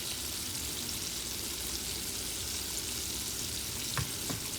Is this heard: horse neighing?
no